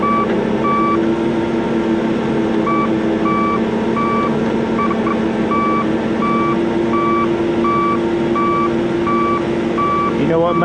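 Truck backing up around a John Deere 7760 cotton baler, its reversing alarm beeping in a steady evenly spaced pattern over a loud constant engine drone, close by and continuous, with no talk.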